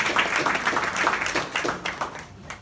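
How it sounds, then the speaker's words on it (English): Applause from an audience greets high school students at an event promoting women for public office, a moderate burst of clapping with distinct hand strikes that tapers off toward the end. "give them a round of applause"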